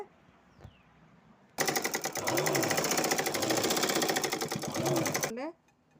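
A sewing machine stitches a second line along a seam in a sudden, loud run of rapid, even needle strokes that goes on for about four seconds and then stops, with quiet before and after.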